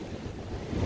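Waves breaking on a Lake Superior shore, a low rushing wash of water with wind buffeting the microphone, a continuous surge that swells toward the end.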